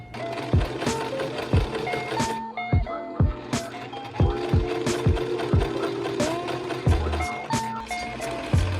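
A sewing machine stitching puff sleeves runs in short close bursts of rapid mechanical whirring, stopping and starting with clicks and thumps between runs.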